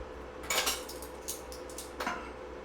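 A metal tablespoon picked up and handled in a kitchen, with two or three faint clinks against other utensils, heard close and alone.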